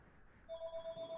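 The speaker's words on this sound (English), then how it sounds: "That's the phone." A telephone rings indoors during a conversation, its electronic bell pulsing in a steady repeated pattern of clear, moderately loud rings with no talk over it.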